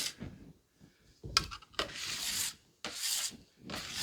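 Bench scraper dragging across a floured work surface through 70s-style pie crust dough, producing several close scraping and rubbing strokes, short and rasping with brief gaps between them.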